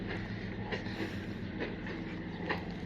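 A train rolls into a station with a steady rumble and rhythmic clacks of wheels over rail joints, fairly close.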